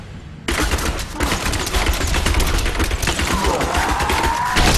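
A bloated, fat enemy bursts apart in Diablo III, a loud, dense crackle of rapid gory blasts that erupts suddenly after a quiet moment and rattles on steadily for several seconds.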